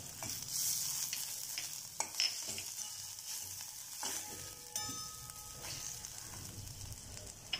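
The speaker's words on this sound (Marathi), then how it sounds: "मंद आचेवर सगळे मसाले छान भाजून घ्यायचे." Turmeric, red chilli and other spices dry roast in a pan over low heat, a faint soft sizzle with occasional stirring scrapes and taps, quiet and close with no voices.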